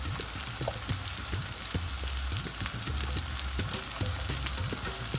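Chopped cabbage fries in a hot pan for a potato and cabbage dish, giving a steady, loud, close crackling sizzle with scraping stirs mixed in throughout.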